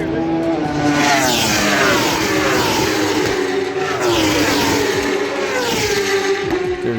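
MotoAmerica superbike racing motorcycles whip past at a track, loud, continuous engine roar with rising and falling pitch as bikes sweep by close, one after another.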